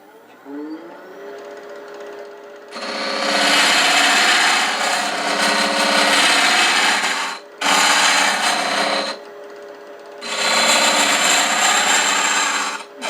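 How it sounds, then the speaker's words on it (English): A nickel scraper cuts under the neck of a woodturned chess rook box on a running lathe, making loud, steady rasping bursts separated by short pauses over the motor hum. "Use this nickel scraper just to get under here, under this neck, just a little bit."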